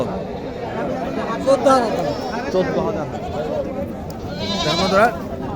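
Goats bleat a few times amid a busy crowd of people chattering nearby at a goat market, the calls rising above the talk.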